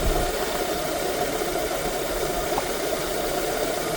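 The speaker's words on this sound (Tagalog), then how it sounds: "running na ang ating 2E engine and charging na siya" A Toyota Corolla 2E engine idles steadily after years unused, a close, even mechanical hum with slight knock and vibration, no talk.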